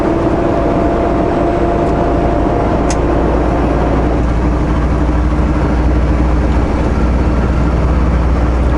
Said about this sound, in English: Let's just go for the gaining speed, so let's go for a higher gear.